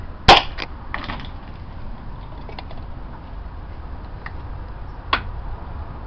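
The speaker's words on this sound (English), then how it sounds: "There's the overpressure valve firing." A sharp pop from an overpressure valve venting on a homemade universal launcher during a test-fire, one loud crack near the start and a fainter second pop a few seconds later over low background noise.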